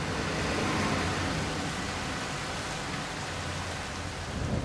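Steady rain falls in Bus Simulator 21 on Xbox Series X, a dense, even hiss of drops on the bus and surfaces, continuous and fairly loud with no voices over it.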